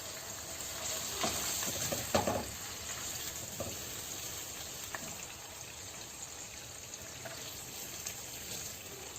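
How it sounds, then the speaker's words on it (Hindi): Mutton liver sizzling and frying in hot masala over medium heat, a steady soft crackle with a few louder stirring clatters near the start, with no talking. "कलेजी को मैंने मीडियम आंच पर ही रोस्ट किया और अब इसमें शामिल कर रही हूँ"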